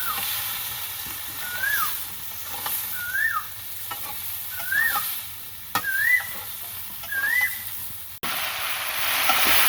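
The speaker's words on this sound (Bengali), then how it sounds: "এখন একটু নাড়াচাড়া দিয়ে নিই।" A curry seasoned with salt, chili powder and turmeric sizzles as it is stirred, a steady close frying hiss broken by scraping strokes, while a bird chirps repeatedly in the background and a louder burst of sizzling takes over at the end.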